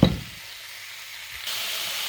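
Curry paste and pork fry in a pan with a steady sizzle, opening on a brief clatter and then swelling into a louder, brighter hiss near the end, with no talking.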